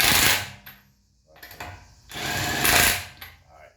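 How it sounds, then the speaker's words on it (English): A power impact tool tightens wheel lug nuts in short bursts of loud rattling hammering, two clear runs separated by a pause, with a brief softer burst in between. "The wheels won't spin as you tighten the nuts on."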